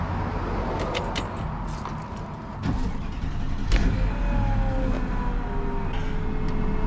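A 2003 Mercedes S 500 AMG engine idles with a steady low rumble up close, with a few faint clicks and a brief rise in level partway through.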